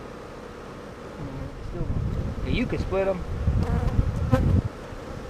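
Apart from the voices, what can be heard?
honey bees buzzing at a hive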